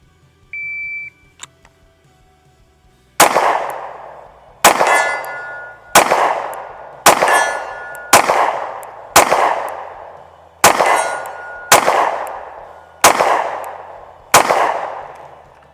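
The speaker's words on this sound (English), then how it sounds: "Let's shoot the Springfield Hellcat on it now." A Springfield Hellcat pistol fires about ten sharp shots at steel targets, each with a ringing clang. The shots come in a quick, slightly uneven rhythm. Before the string begins there is a short electronic beep from a shot timer.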